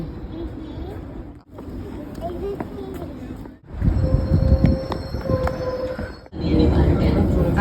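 A Helsinki metro train rumbles along, its loud low drone broken by short quiet dips and a brief squeal of wheels, while people talk over the noise.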